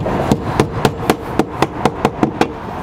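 Steady, rhythmic hammering as nails are driven into S-shaped roofing tiles, about nine crisp blows at even quarter-second intervals, close and fairly loud.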